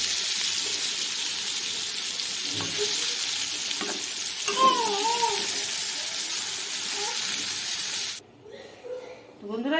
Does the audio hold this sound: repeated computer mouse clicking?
no